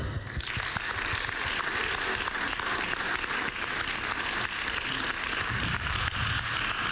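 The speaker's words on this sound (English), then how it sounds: "Please, a warm round of applause for Hannah and Olga." Audience applause welcoming the hosts of a community wellbeing session onto a conference stage, a steady dense wash of clapping that holds at an even loudness throughout.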